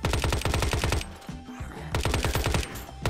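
Rapid automatic gunfire rattles loud and close as zombies are shot down in the survival game Unturned, two dense bursts of fast repeating shots separated by a brief pause.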